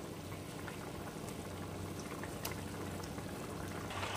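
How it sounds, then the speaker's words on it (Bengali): Soy kofta curry simmers in a pan, giving a steady, close bubbling and gentle liquid burble that holds evenly throughout with no voices. "আর কোপ্তাগুলো দিয়ে 2 মিনিট রান্না করে নিলেই রেডি হয়ে যাবে সয়াবিনের কোপ্তা কারি"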